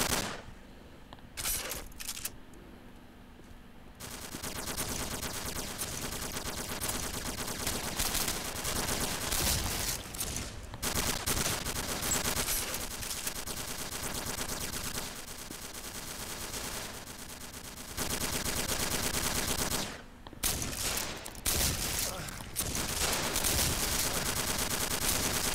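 Sustained, loud shotgun and automatic gunfire from a military-themed video game, nearly continuous bursts with brief pauses, dense and close, with no talk over it.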